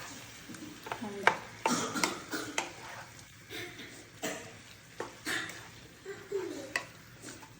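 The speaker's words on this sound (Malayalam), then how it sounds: "റെഡിയാക്കി വെച്ച നാരങ്ങ ഇട്ട് കൊടുക്കാം ആ വെള്ളത്തോട് കൂടി കേട്ടോ ഇട്ട് കൊടുക്കുന്നത് നമുക്ക് ഒന്ന് യോജിപ്പിച്ച് കൊടുക്കാം" Lemon pieces stirred together with their water for a lemon pickle, giving close, irregular wet scraping and clinking against the pot in short bursts, with a voice talking between them.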